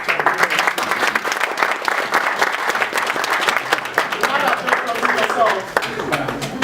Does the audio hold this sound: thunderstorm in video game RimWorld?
no